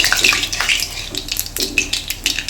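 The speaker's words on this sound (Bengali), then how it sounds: "সামান্য পরিমাণে কালো জিরা দেবো," Nigella seeds tempering in a generous amount of hot oil, giving a steady broadband sizzle and crackle with small pops throughout, close and fairly loud, with no talking.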